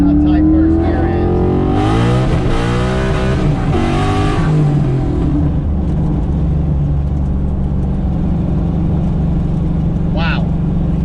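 A car pulls hard through a short, tight first gear, its engine note climbing steeply and loud up close. The revs then drop away to a steady rumble, and the driver's voice can be heard.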